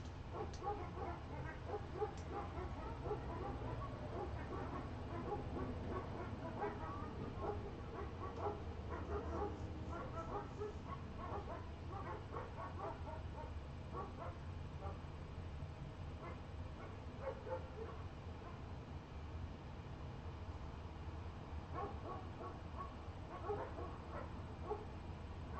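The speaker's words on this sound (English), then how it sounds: "Boy, those dogs just bark all day, don't they?" Dogs bark and yip off and on at a distance, faint beneath a steady indoor hum during an oil painting session, with occasional whimpering calls.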